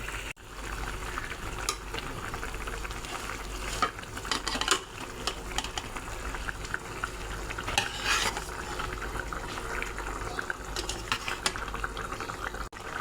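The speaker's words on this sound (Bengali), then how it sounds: "ঝোলটা ফুটে গেছে, এখন ভেজে রাখা মাছ দিয়ে দেব।" Fried fish goes into a boiling spiced curry gravy, fish jhal, in a pot, giving a steady bubbling simmer with scattered clinks of a utensil and a few louder stirring clatters, no voices.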